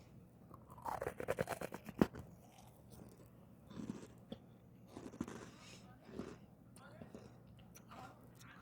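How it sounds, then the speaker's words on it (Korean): Close, crisp crunching bites around the start, followed by softer intermittent chewing, with quiet background murmur between bursts. "처음에 씹을 때는 약간 바삭바삭하다가 갑자기 침으로 이제 녹아가지고"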